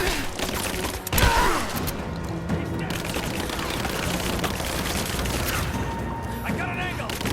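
Video game gunfire fills a squad firefight: dense, continuous bursts and booms with mechanical clatter, a louder blast early on, sustained at a steady level throughout.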